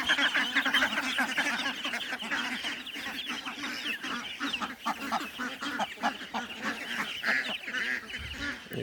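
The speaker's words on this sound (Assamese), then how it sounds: "সেইটো হাঁহ পোৱালি দানা বিচাৰি আছে।" Ducklings foraging for feed in a poultry shed, a busy chorus of continuous quacking and honking calls from many birds close by, overlapping without pause, with no speech.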